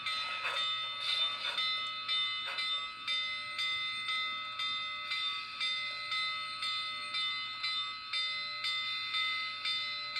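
Steam whistle from an ESU V5 sound decoder in a Rivarossi FEF-3 844 model locomotive, a steady harmonic tone repeated in short rhythmic pulses over about ten seconds, close and fairly loud with no talking.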